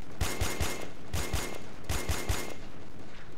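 Automatic rifle fire rattles out in three separate rapid bursts, loud and close, in the tactical shooter game Joint Operations: Typhoon Rising, with brief gaps between the volleys.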